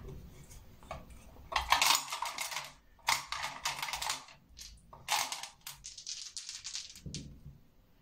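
Clattering bursts of astrology dice rattling and tumbling together, several rolls in a row separated by short pauses, close by.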